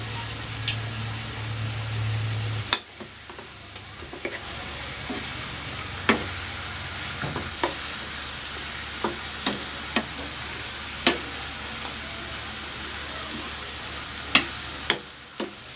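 Fish with vinegar and black pepper simmers in a covered pan, a steady soft bubbling hiss up close punctuated by occasional light clicks and taps.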